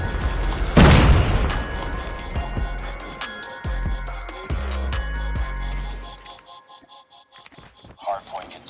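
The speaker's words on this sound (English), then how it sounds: "Friendly Predator missile inbound." A Predator missile strike in the Call of Duty Mobile video game, one loud deep boom that rolls off into rumbling debris, followed by scattered gunfire and clanks, with game announcer voice lines around it.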